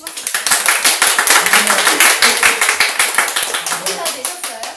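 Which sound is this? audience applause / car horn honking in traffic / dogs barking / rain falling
audience applause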